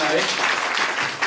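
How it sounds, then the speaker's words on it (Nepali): Enthusiastic applause from a college audience honouring a visiting CEO and motivational speaker, a dense, loud burst of clapping filling the hall, with a voice briefly heard over it. "हामी एकचोटि उहाँलाई जोरदार ताली बजाइदिउँ"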